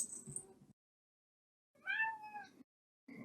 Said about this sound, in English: And here comes the cat.